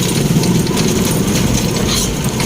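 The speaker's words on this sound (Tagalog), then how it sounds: "Baka motor po siya." A motorcycle engine idles steadily and close by throughout, a continuous low mechanical rumble with no revving.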